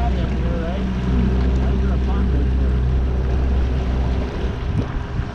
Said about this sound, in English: We're out in Bob's boat for the first time